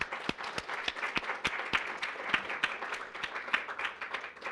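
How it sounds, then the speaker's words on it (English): An audience at a public poetry event applauds warmly for the dean, with steady, dense clapping that continues throughout at moderate distance. "it was really important to applaud for our dean"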